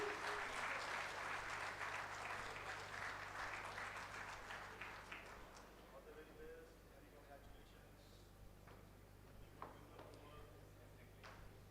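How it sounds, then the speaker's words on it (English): An award ceremony audience at a national conference of company secretaries gives a round of applause, loud and dense at first, then thinning to scattered claps as it fades over several seconds. "A huge round of applause, please."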